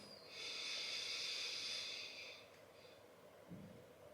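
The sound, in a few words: deep breathing inhale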